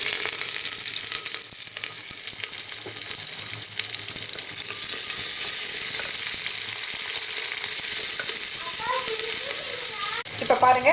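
Onions sizzling and frying in hot oil with mustard seeds, a steady crackling hiss close up, with a few faint stirring sounds near the end.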